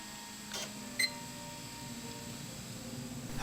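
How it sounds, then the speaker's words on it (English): Two brief electronic beeps from an AcuVision visual field testing machine in a quiet exam room, one near the start and a sharper one just after, over a faint steady hum. "There are beeps sounding which may or may not coincide with the spots"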